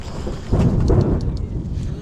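Thunder rumbles low and heavy as rain arrives, a deep rolling burst swelling midway with some wind and rain noise behind it.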